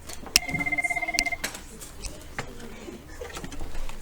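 A telephone rings in a classroom, a rapid electronic trill in two short bursts near the start, followed by quieter room noise and faint background sounds.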